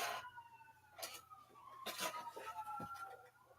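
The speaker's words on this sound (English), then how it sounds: "sirens, and I'm so curious as to whether they're fire sirens or police sirens." A siren wails in the distance, rising and falling faintly beneath a steady low hum and some background noise.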